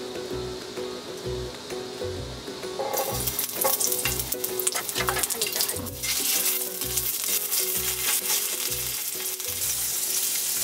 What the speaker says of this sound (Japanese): 今日はねここで焼肉焼くスタイルでいきます